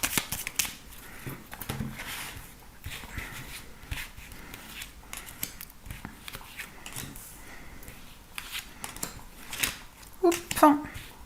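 Tarot cards being shuffled for a reading: repeated soft riffling and slapping bursts at close range, with brief clicks and light handling noises, fairly quiet, and no speech over it.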